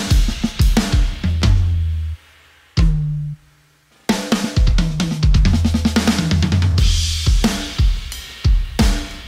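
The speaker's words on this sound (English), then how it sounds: "big, full-sounding drum recording right from your home studio" A drum kit recorded in a small home studio, loud and close, with punchy kick, snare and cymbal hits in a driving groove, a brief pause and lone hit midway before the full beat returns.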